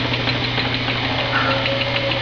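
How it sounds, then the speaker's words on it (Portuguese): An old 110 V electric motor hums steadily as it drives a belt, spinning at roughly 1,790 RPM to turn a wind generator. The drone stays constant and close with a faint mechanical whine and no voices. "Esse motorzão velho e uma correia aqui"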